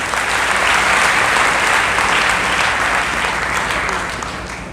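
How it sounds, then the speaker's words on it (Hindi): Sustained audience applause at a school teacher-and-student honour ceremony in Bhind, held by a private school association; dense, steady clapping from a sizable crowd that holds strong for several seconds and then gradually fades. "तालियों में फिर कमी आ गई।"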